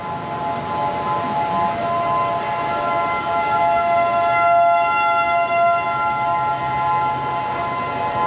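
A Saturday afternoon test of an outdoor tornado warning siren, heard as a steady, loud wailing tone that holds throughout with a faint swell near the middle, with no talk over it.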